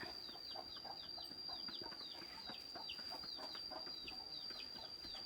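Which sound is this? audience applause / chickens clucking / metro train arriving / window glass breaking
chickens clucking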